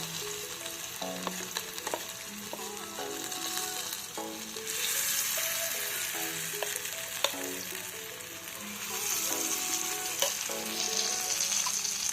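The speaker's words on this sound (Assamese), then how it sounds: "গেছটো ল' কৰি পকৰিকেইটা মই ভাজি ল'ম।" Pakoras deep-fry in hot oil on a gas stove, a continuous bubbling sizzle with crackles and occasional stirring clinks and taps, fairly close and steady, with no talk.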